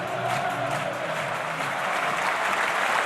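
A football stadium crowd roars and applauds after a curling first-time goal at St Mary's, a dense, sustained wall of cheering and clapping that stays loud and steady throughout.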